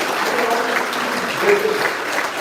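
An audience gives a sustained round of applause at a Yugma 2023 conference session, dense steady clapping filling the room, with faint voices mixed in underneath.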